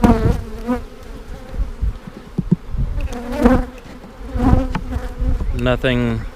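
Honey bees buzz at an open hive during split preparation, a dense, loud, wavering drone from many insects close by, with individual bees whining past now and then.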